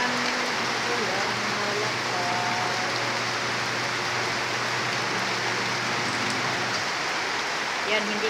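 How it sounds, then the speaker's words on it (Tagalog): Continuous downpour of heavy rain at a house, a thick, even roar of drops striking surfaces that holds constant from start to finish, close and loud with a low steady hum beneath. "Malakas ang ulan."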